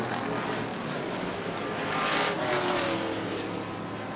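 Race cars running side by side for the lead on a track late in the race, their engines roaring loudly and continuously as they pass, with the pitch swelling and then easing off; no voices heard.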